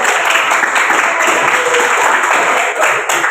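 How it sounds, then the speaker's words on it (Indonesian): Steady applause from a group of children fills the room at a coding training session, even and sustained throughout. "Kita beri tepuk tangan."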